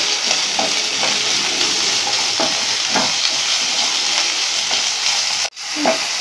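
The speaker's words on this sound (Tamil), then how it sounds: "வெங்காயம் பாதி வதங்கிடுச்சு, நம்ம கேப்சிகம் ஆட் பண்ணலாம்." Onions and capsicum sauté in a pan for gobi Manchurian, a loud steady sizzle with regular stirring scrapes close by, briefly cutting out near the end before resuming.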